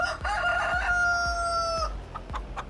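Rooster in Farming Simulator 23 crowing one long, loud, close cock-a-doodle-doo, with footstep-like thumps from the game underneath.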